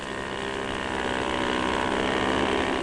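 Steady droning engine noise of motorboats circling in a harbor during a bathtub race, a continuous loud hum with no pauses, like several craft running close by.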